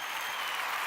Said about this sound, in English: There's a well-timed clapping thingy.